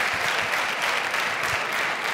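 Loud, dense applause fills a hall at a televised village beauty contest gala in Spain, steady and continuous for the village finalists.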